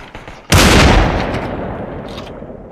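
Loud burst of gunfire in the virtual reality battle royale game Population One erupts suddenly and close, then trails off into a long rumbling decay that fades over a couple of seconds.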